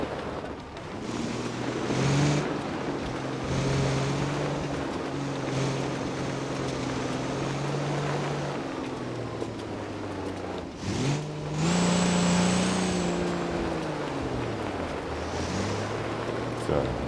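Autobello Stambecco truck in BeamNG.drive crawling off-road through Johnson Valley, its engine droning and rising and falling in pitch as it climbs, with a brief dip and surge midway; a voice talks over parts.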